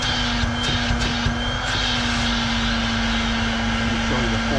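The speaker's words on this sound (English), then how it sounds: "push the start button. You see a good suction there." A Honda leaf vacuum runs at full suction, a loud, steady engine roar with a constant drone lasting throughout, close by and alone.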